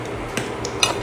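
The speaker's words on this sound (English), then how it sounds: "gonna mix it up a little" A utensil stirs through a pasta salad dressed with Italian seasoning, giving a few soft, brief scrapes and clinks spaced across a second against a quiet kitchen background.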